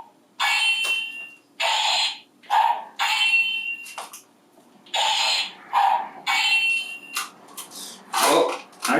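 Toy Power Rangers Saba White Ranger talking sword sounding off with a series of bright electronic bursts, effect clips repeating in quick succession with short gaps, fairly loud and close.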